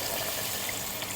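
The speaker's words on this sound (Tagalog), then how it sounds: "Lagyan na natin ng tubig." Water runs into a cooking pot for pork sinigang, a soft, steady trickling pour heard faintly and alone.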